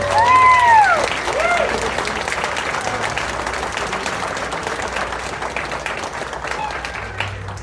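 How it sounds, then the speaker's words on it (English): An audience at a Japanese festival applauds kendo demonstrators with steady, dense clapping lasting several seconds. A short whistle-like tone rises at the start, and talk comes through faintly beneath the clapping. "Let's give Riku and Hyuga a round of applause."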